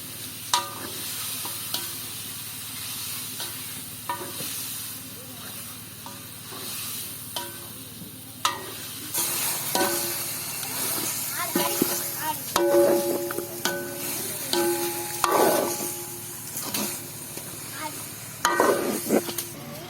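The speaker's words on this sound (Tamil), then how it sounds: "வெட்டியை போட்டு வதக்குவோம்." Chopped ingredients for a village-style chicken curry are sautéed in a pan, giving a continuous close sizzle with repeated stirring scrapes and clanks that grow busier toward the end.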